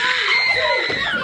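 A girl screams in a dramatic stage or film scene, a loud sustained high-pitched shriek lasting about a second.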